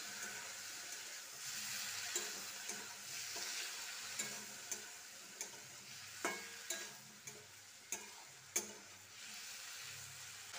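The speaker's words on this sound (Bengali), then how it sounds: "এবার ভালো করে মিশিয়ে নিচ্ছি" Spiced flat beans and potatoes sizzle softly in a pan with a splash of water while a spatula stirs them, giving a steady low frying hiss broken by a dozen sharp scraping knocks at an uneven pace.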